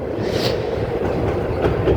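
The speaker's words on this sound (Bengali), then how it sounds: "ট্রেনটা এখানে একটু স্লো হয়ে গিয়েছে যেহেতু ব্রিজের উপরে উঠেছে" Hazarduari Express passenger train on the Kolkata to Murshidabad line rolling slowly over a river bridge: a steady, close rumble of wheels and carriages with a soft clickety-clack running throughout, no voices.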